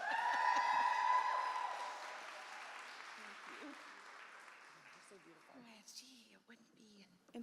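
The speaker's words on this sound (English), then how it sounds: "one more cheer for Sheena" An audience at an International Women's Day party claps and cheers loudly at first, the applause gradually fading into scattered clapping and murmuring with a few louder claps near the end.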